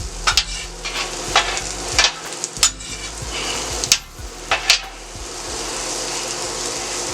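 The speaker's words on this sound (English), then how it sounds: "we're going to mix these up in here" Chicken with a light garlic powder glaze sizzles in a pan for a Philly cheesesteak while a utensil stirs it, giving repeated sharp metallic clinks and scrapes over a steady frying hiss.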